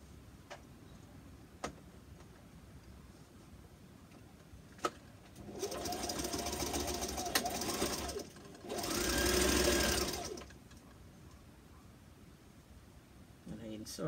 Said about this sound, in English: So we stitch in from one end, back stitch, one end right over to the next end and back stitch.